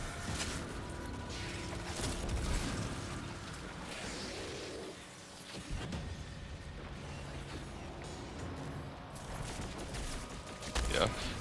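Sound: Fourth Horseman shotgun shots in video game Destiny

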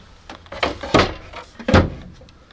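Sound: dresser drawers opening and closing in a converted bus

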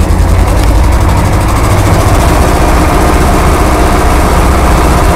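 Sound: tractor engine running during winter plowing

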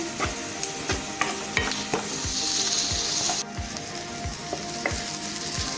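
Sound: onions being stirred and fried in a pan

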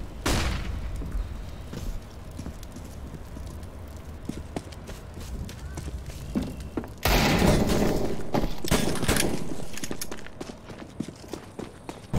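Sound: flashbang grenade exploding in the video game CS:GO

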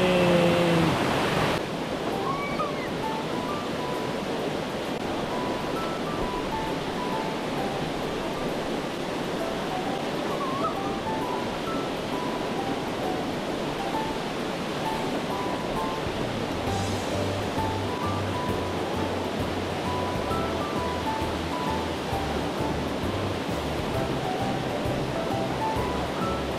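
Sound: waterfall in a mountain stream gorge

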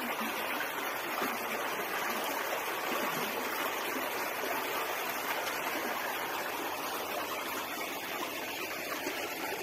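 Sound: water trickling down from above in the Kabardinka river gorge

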